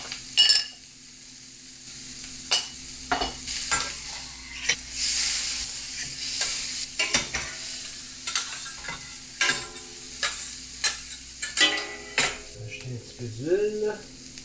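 Carrots tossed with onions in hot oil for chicken fried rice hiss and sizzle under irregular spatula scrapes and clatters against the pan, close and busy with bursts of stirring.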